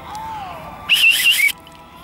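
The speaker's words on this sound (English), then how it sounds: "I would say it's a referee's whistle" A single shrill blast from a referee's whistle dug up while metal detecting, loud and clear for about half a second against a quiet background.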